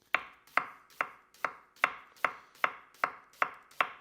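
Kitchen knife cutting thin slices of food on a board: ten crisp, evenly spaced chops in a steady rhythm, close and clear with nothing else heard.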